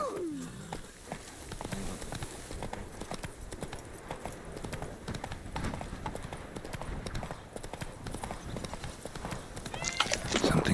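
Roach the horse clip-clops steadily through a Witcher 3 game world, a continuous run of hoof beats in the foreground with game ambience and a voice speaking over parts of it.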